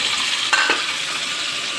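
Onion, ginger, garlic and tomato frying in a pan for dal tadka, a steady close hiss of sizzling with a brief stirring scrape partway through, alone without voices.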